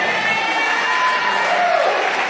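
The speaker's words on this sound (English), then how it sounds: "Clap it up for her." Comedy club crowd clapping and cheering during a stand-up roast, a loud sustained wash of applause with whoops and crowd noise and a faint tone running through it.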